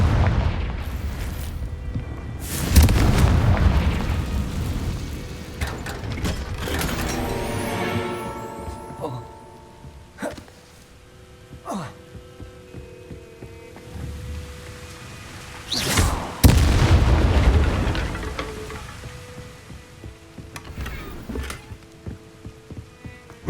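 Confringo fire spell explosions in the video game Hogwarts Legacy, several booming bursts spread across the stretch with rumbling low end between them, loud and close over ambient game sound.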